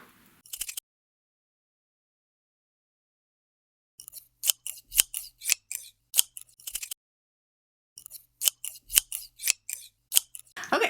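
Scissors cut quilt fabric pieces for a Wallflower quilt block in quick crisp snips, with a single cut, a pause and then two separate runs of rapid snipping close up.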